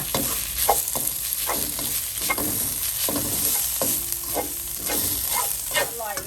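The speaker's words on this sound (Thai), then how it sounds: "ต้องผัดน้ำพริกแกงให้หอม ไฟปานแกงอย่าแรงนะคะ เดี๋ยวมันจะไหม้" Chili curry paste fries in oil in a pan over medium heat, a steady close sizzle with repeated scraping stirs throughout.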